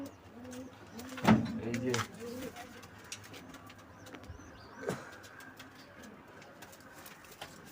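Several pigeons kept at a home coo in low, soft bursts, clearest early on, with faint chirps and household background noise around them.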